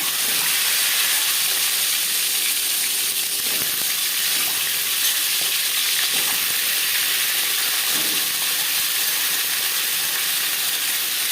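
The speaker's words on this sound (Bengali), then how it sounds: "ডিম ভাজবো" Eggs fry in hot mustard oil over high heat, a loud, dense and continuous hissing sizzle that holds steady from start to finish with only faint crackles beneath.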